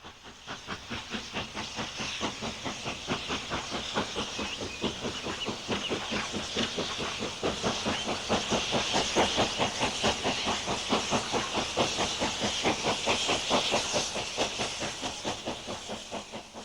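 A steam locomotive pulls away with an enthusiasts' special train on the Somerset and Dorset line, its rapid rhythmic chuffing and hiss building steadily in loudness over the whole stretch.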